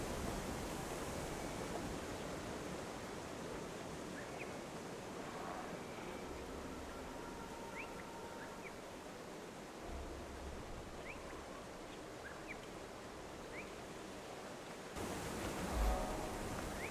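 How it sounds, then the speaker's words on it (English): Steady broadband rush of a waterfall in the video game Guild Wars 2, a continuous roaring wash that holds level throughout, swelling slightly louder near the end with no talking. "This is not even such a high waterfall."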